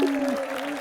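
Audience applause and cheering welcome a woman named Marissa onto a stage at a community fan event, a steady wash of clapping under a sustained tonal hum, brief and moderately loud.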